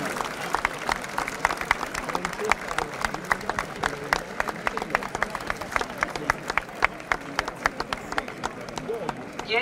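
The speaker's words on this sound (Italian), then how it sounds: "Ecco gli applausi dei leccesi." Outdoor crowds in Lecce, Italy, clap at a distance as the saints' statues set off in the Sant'Oronzo feast procession. The applause is fairly faint and steady, with a narrator speaking over it throughout.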